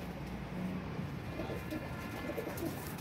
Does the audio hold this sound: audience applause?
no